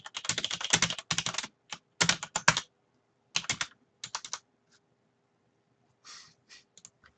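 Fast bursts of typing on a computer keyboard during an online poker session, close crisp key clicks in clusters separated by short silences, quiet room otherwise.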